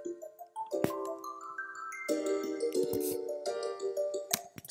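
A bell sound in an Ableton Live mix rings out in clear, bright repeated tones that stand over piano chords and a rising arpeggio, with no talking.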